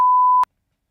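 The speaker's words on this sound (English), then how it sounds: "I'm pretty sure Hasbro owns the copyrights to that beep sound." A Kenner/Hasbro toy beep sounds once as a single steady electronic tone, loud and clean, lasting under half a second and then cutting off into silence.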